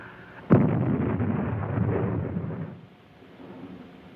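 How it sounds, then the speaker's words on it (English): A single heavy landmine explosion in a World War II film bursts suddenly, followed by a long deep rumble that slowly fades, with no talking. "That explosion was one of our mines."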